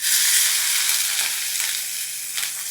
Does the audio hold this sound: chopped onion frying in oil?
yes